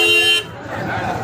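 A car horn blares in a steady tone for a moment in heavy traffic, then cuts off and leaves a busy rumble of road noise with a voice speaking over it.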